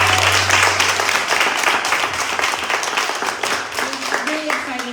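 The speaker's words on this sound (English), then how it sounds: "Can we give a round of applause for this?" Audience applause at a young professionals event with a guest speaker, steady dense clapping for several seconds with a brief voice under it at the start.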